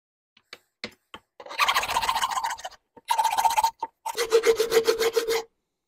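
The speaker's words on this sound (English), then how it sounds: "I'm going to actually stick the horn on the wood and use it to work around and remove that and get all that gunk off." Powder horn rubbed against wood to scrape off gunk, a few quick scratches followed by three bursts of raspy back-and-forth rubbing, close and fairly quiet with short pauses between strokes.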